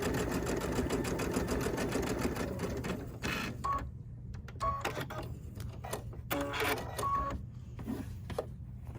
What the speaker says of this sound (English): I love sewing with the automatic pivot feature because it holds my place.